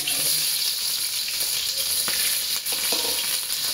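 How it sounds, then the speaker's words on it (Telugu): Onions fry in a pan with a loud, steady hiss and crackle, punctuated by a few light stirring knocks. "నెక్స్ట్ వచ్చి ఆనియన్స్ వేసుకున్నాం"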